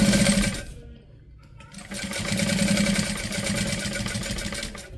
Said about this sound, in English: You'll top stitch this down, making sure that that exterior and that lining is matched up.